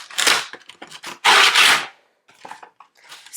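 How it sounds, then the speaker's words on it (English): Cardboard tarot deck box for a Nicolas Conver Tarot de Marseille being pulled open, giving a few loud scraping, rasping bursts of friction with short pauses, close up and with no voices. "Sorry about the noise, but it sounds like this when you pull it out."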